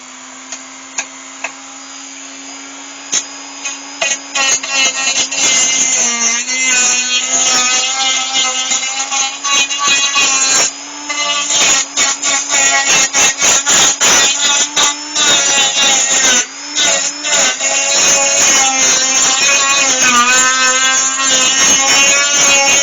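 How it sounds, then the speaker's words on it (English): A Dremel rotary tool whines steadily at high pitch while grinding away the jagged, sharp edge of a damaged hazel wood turning, with its pitch dipping and rising under load and dense gritty scraping throughout. "So I'm just going to go with my Dremel and clean all that up"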